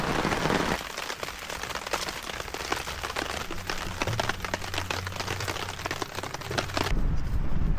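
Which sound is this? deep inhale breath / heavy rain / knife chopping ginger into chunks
heavy rain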